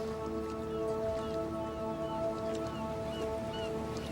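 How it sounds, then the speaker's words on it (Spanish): A steady, low mechanical drone of idling boat engines hums beneath a constant wash of water and faint harbour noise. "Nos rodean los sonidos del puerto, los motores de las embarcaciones que se alejan"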